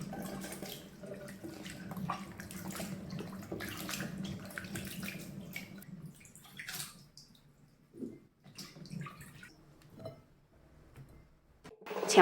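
Wampee fruit washed by hand in a basin of water, with steady sloshing and swishing for several seconds, then quieter separate splashes and drips, close by.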